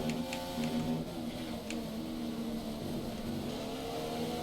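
Race car engine in a racing video game, a steady loud drone with a shifting pitch as the car holds speed, constant throughout with no voices.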